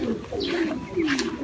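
Racing pigeon cooing on arrival at the loft, two soft throaty coos, close and clear with a faint chirp above.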